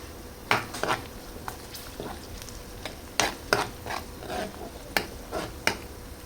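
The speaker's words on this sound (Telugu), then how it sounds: "ఇలా ఆనియన్స్ ఫ్రై అయ్యేదాకా ఇలా దంచి పెట్టుకున్న వెల్లుల్లిపాయ ముద్దనైతే వేసేయండి" Onions fry in a pan with crushed garlic paste being stirred in, a soft background sizzle broken by sharp, irregular scrapes and clinks of a utensil against the pan, close by.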